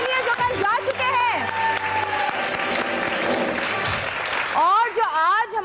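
A television studio audience on an entertainment show applauds continuously and fairly loudly, with voices and cheers rising over the clapping near the end.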